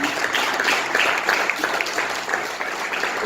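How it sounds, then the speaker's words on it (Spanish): Congregation at a church service applauding, a steady dense wash of clapping throughout with no pauses, moderately loud and fairly close. "Fuertes aplausos al Señor."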